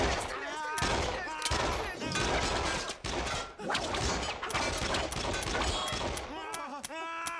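Rapid bursts of pistol gunfire in a French comedy film, loud and near, mixed with shouting voices and music throughout.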